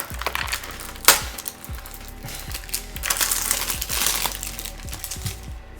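Packaging around a boxed seahorse snack being torn open and crinkled, with repeated sharp crackling crunches and rustling plastic close by, one louder snap near the start, no talking.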